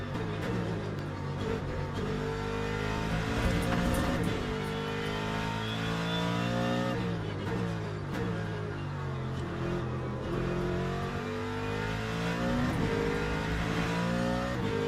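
GT3 race car engine in the Le Mans Ultimate racing game, a continuous loud rev whose pitch rises and falls through gear changes, with one brief voice under the engine.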